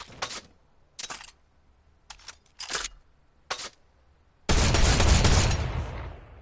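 Machine gun fire from a video game weapon: several short separated bursts of rapid shots, then one long, loud sustained burst that gradually trails off.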